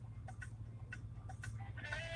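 A large flock of Canada geese gathered on a road gives scattered honking calls, fairly faint and at a distance, over a low constant rumble.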